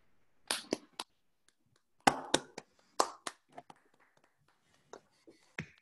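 Scattered clapping from an online audience over unmuted microphones, a few separate bursts of hand claps with gaps between them, close and thin, fading to isolated claps.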